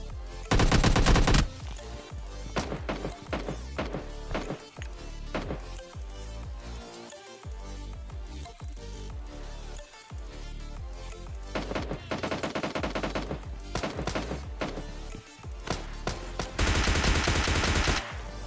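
Rapid automatic gunfire rattles in PUBG Mobile Lite, with several bursts of loud shots separated by short pauses and clicks, in a fight to finish off an enemy.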